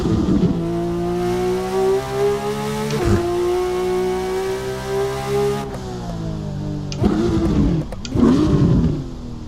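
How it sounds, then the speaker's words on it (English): A Pro Charged Porsche GT3 RS in Assetto Corsa revs hard, its engine note climbing steadily in long pulls with brief dips between gear changes, loud and close with no talking. "It's a Pro Charged GT3 RS. I don't know how much power it's pushing, but it's a lot more than it needs."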